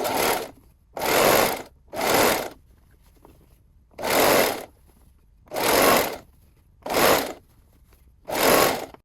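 A sewing machine stitches around the edge of a fabric scrunchie in seven loud bursts of rapid whirring, each lasting under a second, separated by short quiet pauses, close and without talking.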